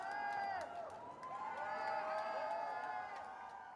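A studio audience at a gamescom stage show cheers and whoops with scattered clapping, a lively, continuous crowd roar with rising and falling voices throughout.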